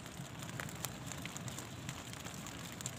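Rain falls outdoors at an eel-fishing spot, a dense, steady patter across the whole stretch with a few sharper drops standing out, no voices.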